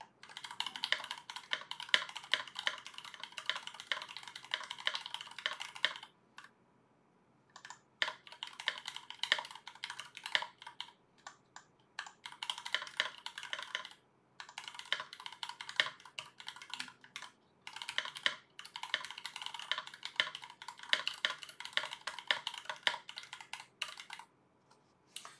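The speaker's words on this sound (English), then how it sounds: "let me stop the music again so we can do a little typing session again" Steady bursts of typing on a RAMA M60-A mechanical keyboard with lubed stabilizers, dense clacky keystrokes running in several long runs separated by short pauses, close and alone with no talk.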